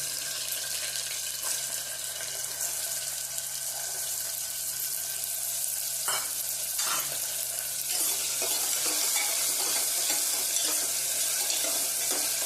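Two medium potatoes, finely chopped, fry in oil with chillies and ginger for a fasting-day moraiya khichdi, giving a continuous close sizzle with occasional stirring scrapes and no voices.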